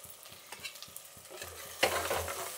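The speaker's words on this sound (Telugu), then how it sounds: "ఇప్పుడు తెల్లగడ్డ కూడా వేసేద్దాం" Garlic cloves going into a pan of hot oil while dal is being prepared: a spoon scrapes and taps rhythmically, then a sudden louder sizzle of frying rises and continues steadily.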